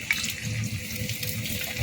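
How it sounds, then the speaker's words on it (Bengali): Cauliflower florets fry for chilli cauliflower in plenty of oil over low to medium heat, making a dense, even, close bubbling hiss throughout without talk. "লো থেকে মিডিয়াম হিটে ভাজবো"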